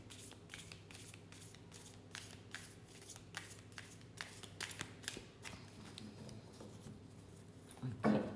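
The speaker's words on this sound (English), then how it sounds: "So one more riffle shuffle, and then we will clear the deck." A deck of playing cards is riffle shuffled in a quiet room, giving a run of soft, close, rapid card flutters and taps, with a sharper burst of riffling near the end and no voices.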